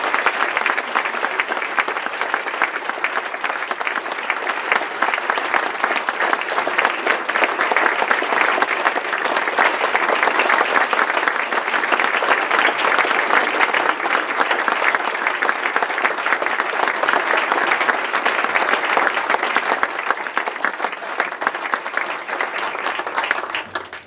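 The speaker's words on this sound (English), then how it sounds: "so please can we give them a round of applause." A round of applause from an audience for guests receiving a gift of appreciation, dense, sustained clapping holding steady for over twenty seconds before tapering at the end.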